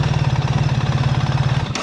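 A BMW R1300GS Adventure motorcycle engine idles with a quick, even low throb, close and steady, then cuts off abruptly as it shuts down near the end.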